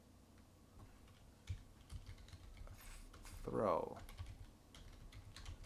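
Typing code on a computer keyboard, a quick run of faint close key clicks with a louder thump or two, while someone talks quietly over the tapping.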